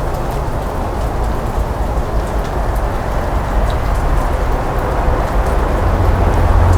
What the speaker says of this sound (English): I'm going to show the people the rain.